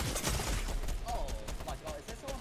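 Gunfire crackles in the video game Fortnite as a rapid, dense burst under an excited voice talking over the shooting.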